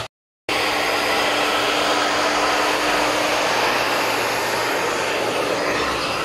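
Hair dryer blowing a cat dry after a shower at a pet shop, a loud, steady whooshing motor roar that starts abruptly after a brief silence and runs evenly to the end.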